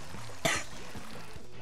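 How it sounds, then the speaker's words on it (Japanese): A single sharp cough, brief and close, bursts out once amid quiet background sounds during Splatoon 2 gameplay. "咳が出ちゃうので、喉痛くて"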